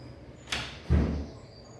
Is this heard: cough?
no